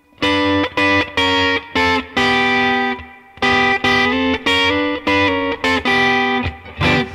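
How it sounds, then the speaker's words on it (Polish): Blues guitar lick played in sixths with a pick, moving up by half steps into a major sound; clear, close two-note phrases with distorted, effects-laden tone, played alone in short bursts with a brief pause midway. "Więc mamy seksty od H do G, czyli wchodzimy w dur"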